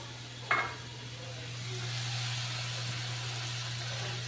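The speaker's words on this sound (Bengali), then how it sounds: "এবার আমি মশলাটাকে ঢেলে দিলাম।" Spice paste tipped into a hot pan for a bottle gourd and fish-head curry, giving one sharp splash followed by a steady, soft sizzle under a constant low hum.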